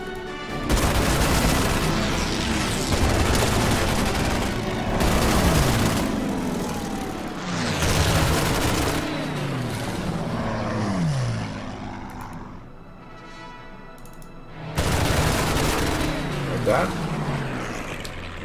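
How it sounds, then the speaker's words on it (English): Fighter planes strafing enemy artillery in the Order of Battle war game, with repeated booming bursts of gunfire and explosions over a steady engine drone, loud and layered, with a brief lull before the attack resumes. "So we can use the fighters to strafe run enemy artillery."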